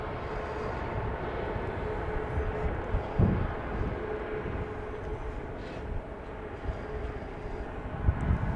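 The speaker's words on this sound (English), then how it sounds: "this looks to be a Max 8 headed out" A Boeing 737 Max 8 heads out at Dallas Love Field, its engines giving a steady, distant low rumble and roar that holds evenly throughout, with no voices over it.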